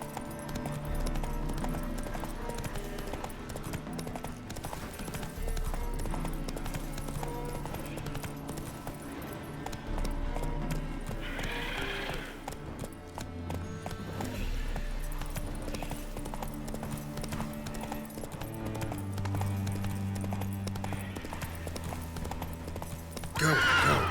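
In The Witcher 3, Geralt's horse Roach gallops with steady rhythmic hoofbeats under game music, with whinnies and brief rider calls mixed in.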